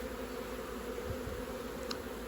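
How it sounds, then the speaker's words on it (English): A honeybee swarm buzzes near a hive, a continuous close drone of many bees with a steady outdoor hum and no voices. "can see the bees all kind of climbing up the post"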